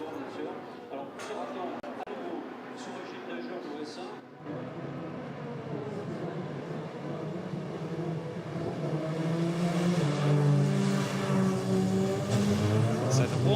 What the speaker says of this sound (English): So the warm-up lap getting underway.